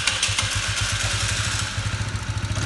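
A small moped engine running freshly after its carburetor was cleaned and a battery fitted, ticking over close by with a steady, rapid putter and no talk.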